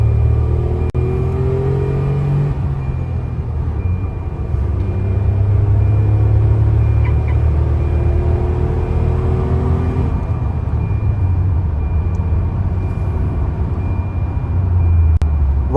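A Tata Altroz Racer hatchback driven on the road, heard from inside as a steady loud engine and road rumble with gentle rising engine tones as it accelerates, no talking.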